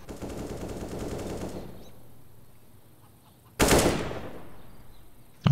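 Rapid automatic rifle fire rattles in CS:GO on the Inferno map, a sustained burst at the start followed by a single sharp, loud shot and another at the very end.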